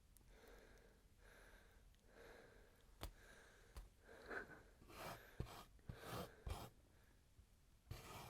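A voice imitating heavy breathing in a hushed, creepy whisper style: slow, close, breathy inhales and exhales with occasional sharper gasps and snort-like bursts, growing louder and more ragged toward the end.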